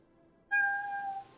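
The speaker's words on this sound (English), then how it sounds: "one cat has just heard me talking and he feels like he needs to make an appearance in the video" A cat gives a single clear, drawn-out meow, fairly close, over a quiet room background.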